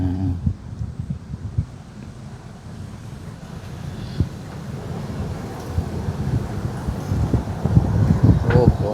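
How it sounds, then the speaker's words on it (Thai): A cold wind gusts outdoors beside a pond near a small hut, buffeting the microphone with a low, uneven rumble that builds toward the end. A person talks intermittently over it. "โอ้ลม"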